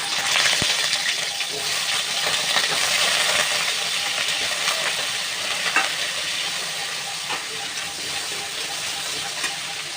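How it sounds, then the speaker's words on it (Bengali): Potatoes fry in a little mustard oil in a wok, giving a steady, close sizzle with scattered clinks and stirring scrapes throughout. "কড়াই বসিয়ে অল্প সর্ষের তেল দিয়ে দিয়েছি। এবারে আলুটা ভেজে নেব।"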